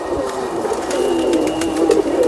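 Golden pigeon cooing close by in a steady, continuous low warble that runs throughout without pause.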